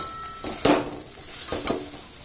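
Grated coconut fries in a pan with kochu flowers and green chillies, a soft sizzle under two distinct scraping stirs of a spatula.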